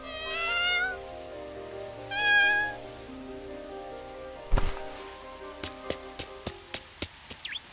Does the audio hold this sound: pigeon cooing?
no